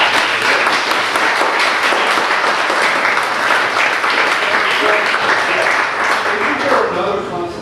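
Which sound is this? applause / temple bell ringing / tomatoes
applause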